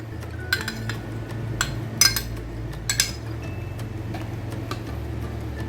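A spoon clinks against a bowl as cream is stirred into mayonnaise, giving several close, sharp metallic ticks in small bursts over a low steady kitchen hum.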